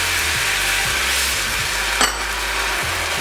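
A spatula scrapes across the bottom of a smooth nonstick frying pan while cayenne pepper hot sauce mixture sizzles steadily, with a few soft scraping strokes and one sharper clink near the end.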